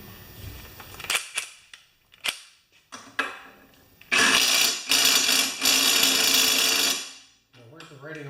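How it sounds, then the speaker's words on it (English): Battery-powered impact wrench tightening the flywheel on a Craftsman mower, with short sharp bursts followed by a long loud rattling hammer, close by, and someone talking briefly at the end. "That's as tight as it'll go on a battery operated impact."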